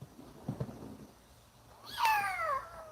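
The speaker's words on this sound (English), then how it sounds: "There goes our kitty." A house cat meows outdoors near an open door, a clear rising-and-falling call close by, preceded by quieter household shuffling.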